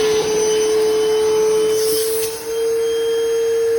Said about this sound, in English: All right, we'll get the shop vac and suck both out.